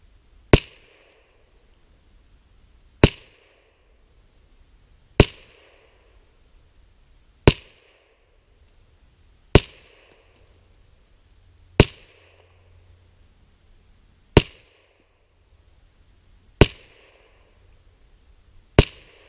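Mossberg 702 semi-automatic .22 rifle firing copper-plated rounds from a 10-round magazine: nine sharp, loud shots spaced about two to two and a half seconds apart, each with a short echoing decay.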